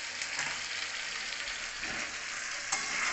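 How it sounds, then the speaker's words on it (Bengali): Spice masala with tomato sautés in oil in a Bengali potato curry pan, a steady close sizzle with light stirring scrapes and small crackles throughout. "মশলাটা কষাচ্ছি"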